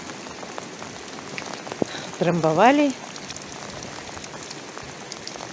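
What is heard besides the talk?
rain falling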